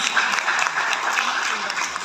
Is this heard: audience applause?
yes